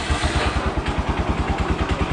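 A motorbike engine runs on the Greek island of Symi, idling with a steady, rapid low throb close by and no voices over it.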